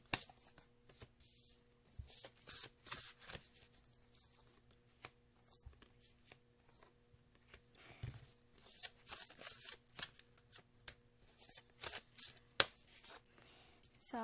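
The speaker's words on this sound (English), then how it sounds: "when I shuffle the cards" Tarot cards being shuffled in repeated bursts of crisp riffling and flicking, fairly close and soft, with quiet pauses between rounds.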